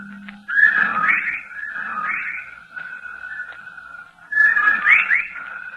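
Eerie, warbling whistles rise and fall in slow, breath-like swells, echoing with a processed, otherworldly tone against near silence.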